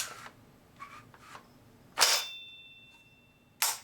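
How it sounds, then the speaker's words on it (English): An HK G36K rifle, an SL8 conversion, being handled: sharp metallic clacks of the folding stock and parts, one followed by a thin, fading metallic ring from the flash hider, then another sharp clack near the end. "that ringing sound you hear is the flash hider."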